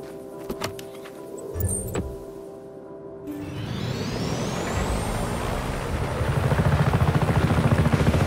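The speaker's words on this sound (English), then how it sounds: "This chopper, Frostre!" A helicopter in the video game Just Cause 3 spins up after a few faint clicks and thumps, swelling into a loud, steady rotor roar with a rising whine and quick chopping pulses toward the end, with no talking.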